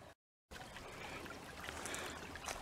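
A small rocky creek trickles and babbles steadily over river stones at a gold prospecting spot, continuous and fairly soft after a brief silent gap.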